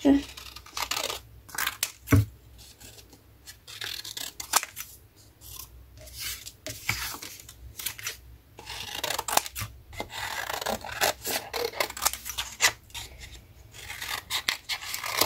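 Scissors snipping through paper in short irregular bursts of cuts and rustles, close by, with quiet pauses between.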